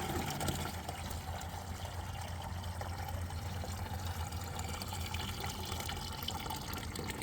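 Washer fluid glugs and trickles steadily out of the windshield washer reservoir on a Toyota Corolla, a continuous close liquid pour with no talking.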